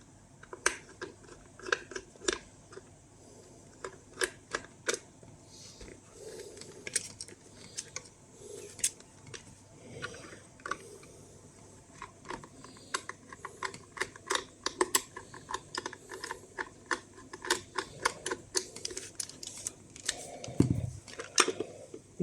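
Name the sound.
unscrewing screws from SRP-88 dosimeter housing with screwdriver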